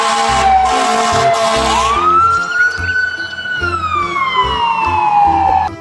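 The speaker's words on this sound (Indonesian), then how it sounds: "Ini mobil ambulan." A toy ambulance siren wails loudly and continuously, its electronic tone sliding up and down over a rhythmic beeping pattern.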